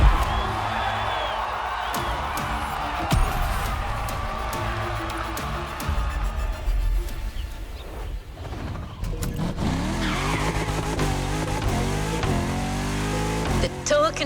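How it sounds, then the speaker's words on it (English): Mercedes-AMG One supercar in The Crew Motorfest racing game, its engine droning loud and steady throughout, with revving swells, tire squeal and rising gear sweeps near the end, over faint background crowd noise. "My German trip was ending wonderfully with this Mercedes AMG 1"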